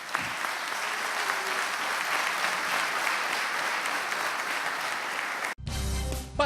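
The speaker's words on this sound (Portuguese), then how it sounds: "Quantos podem aplaudir ao Senhor nesta manhã?" Church congregation applauding during a Sunday morning service, a dense, steady wash of clapping hands lasting several seconds before it cuts off abruptly.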